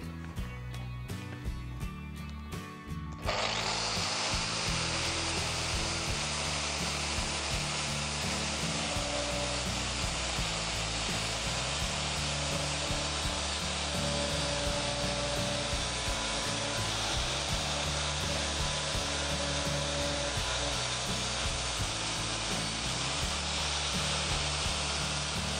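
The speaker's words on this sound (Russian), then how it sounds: "Сейчас попробуем шлифануть нашу арматуру." A DeWalt DWE4257 angle grinder fitted with a flap disc grinds rebar after a quiet start, then holds a loud, steady, continuous abrasive whine with a droning motor hum for over twenty seconds, no voices.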